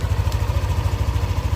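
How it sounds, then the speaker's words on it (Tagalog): Yamaha NMAX scooter engine idling up close, its steady low throb carrying a faint rapid ticking from the camshaft, with no one talking. "Ang naririnig yun na yung lagitik ng cam."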